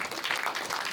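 Audience applause for speaker Dr. Khaqan Haider Ghazi at Punjab Bhawan, Lahore: a brief, moderate burst of scattered hand clapping from a crowd, fairly dense and even.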